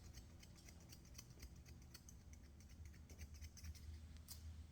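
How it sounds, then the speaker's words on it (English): Thinning shears snip at a dog's facial hair during grooming, quick faint repeated clicks in an irregular rhythm against a quiet, close background. "Carefully, I'm going to trim it with thinning shears."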